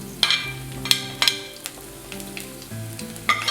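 Curry leaves, chopped garlic and ginger sautéing in oil for Kottayam-style Kerala fish curry, a light sizzle punctuated by sharp spoon clinks against the pan at irregular intervals.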